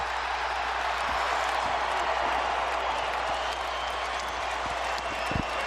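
A packed basketball arena crowd on its feet at a Lakers versus Raptors game, loud sustained applause and crowd roar filling the space at steady volume.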